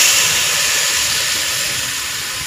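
Soy sauce hitting a hot pan while cooking chicken fried rice at home: a loud, steady bright sizzle and hiss that slowly fades, with no talk.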